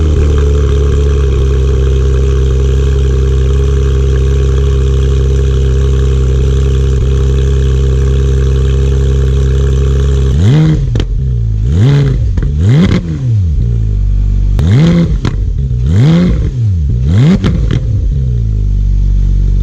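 Exhaust of a 2015 Porsche 911 991.1 GT3 with a 9,000 RPM redline: a loud steady idle drone, then a run of sharp, rising and falling revs repeating in quick succession, up close, with no talk.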